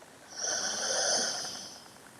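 A single slow inhale through the right nostril during an alternate-nostril breathing exercise, a close, airy, hissing draw of breath that swells and fades over about a second and a half.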